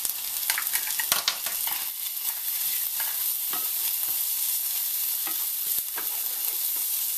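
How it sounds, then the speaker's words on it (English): Finely chopped onions and ginger garlic paste fry in oil, a steady bright sizzle close by, broken by repeated scrapes and clicks of stirring. "I got a half a cup of onions, finely chopped, browning, and 2 tablespoons of oil."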